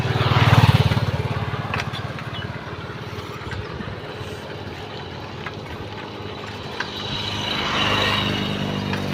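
Motorcycles pass on a road in Dibrugarh, engine noise swelling near at the start, fading, then rising again toward the end, with little else audible.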